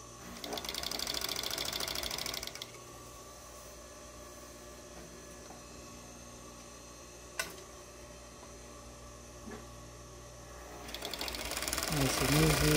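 A Yamato Z365 overlock serger runs in fast, steady bursts, stitching in a whirring rattle at the start and again at the end with a quiet humming pause between, close-up and moderately loud.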